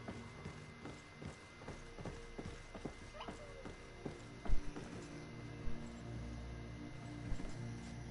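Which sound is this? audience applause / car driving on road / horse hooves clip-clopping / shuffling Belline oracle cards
horse hooves clip-clopping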